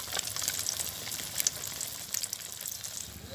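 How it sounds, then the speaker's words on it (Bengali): Fish sizzling and crackling steadily in hot oil in a village kitchen, fried crisp, with a dense continuous hiss and small sharp pops throughout, close by and with no talking. "আমার এই মাছগুলো ভাজি হয়ে গেছে"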